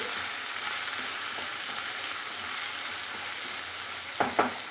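Fish curry with raw mango pieces sizzles steadily in a pan, a continuous frying hiss with a couple of brief stirring scrapes near the end; no one speaks.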